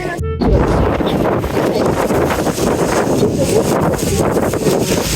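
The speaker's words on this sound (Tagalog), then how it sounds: "Ah, lakas ng hangin." Loud, constant roar of strong mountain wind at the summit of Fansipan in Vietnam buffeting the microphone, a dense rumbling rush that never lets up, with a brief sharp knock at the very start.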